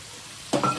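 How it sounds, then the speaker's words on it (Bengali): Carrots, beans and peas hit a hot frying pan with a sudden burst of sizzle and a brief stir, after a quiet start. "এবার এগুলোকে আমি 1 মিনিট মতো ভেজে নেব।"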